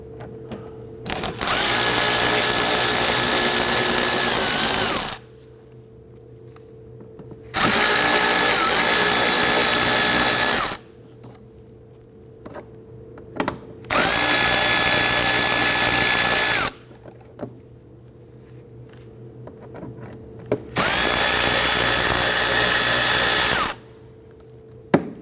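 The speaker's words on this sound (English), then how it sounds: "remove the T25 Torx bit screws running down the fender liner" A power driver spins out T25 Torx screws from the fender liner of a 2009-2017 Volvo XC60 in four loud, whining bursts of about three seconds each, separated by short quiet pauses.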